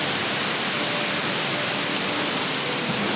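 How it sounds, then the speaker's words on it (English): A waterfall on a hike near an RV stop roars as a steady, dense broadband wash of falling water, close and unbroken, with no voices over it. "Oh my goodness, look at that waterfall."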